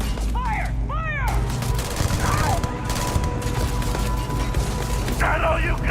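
Rapid gunfire bursts from weapons in the video game Starfield, loud and dense throughout, mixed with game effects and shouted voices.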